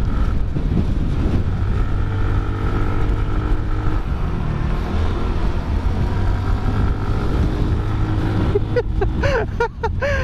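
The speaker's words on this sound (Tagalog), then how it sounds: "Ay, lumakas na yung hangin." Strong wind buffets the microphone during a year-end motorcycle ride at Malico, San Nicolas, a loud continuous roar with low rumble, rising into gusty bursts near the end.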